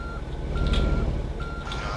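Truck reversing alarm in American Truck Simulator, a steady mid-pitched beep repeating in long evenly spaced tones over a low engine rumble, with no talk.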